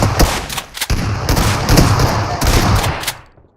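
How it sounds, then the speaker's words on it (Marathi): Rapid gunfire in a first-person shooter video game, loud bursts of automatic shots with brief gaps, fading out at the end. "हे बघ आता तुला तोंडावर मी गोळी मारली."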